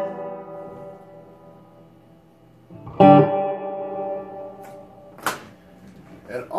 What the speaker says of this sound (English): I'm gonna turn up the reverb just a little bit.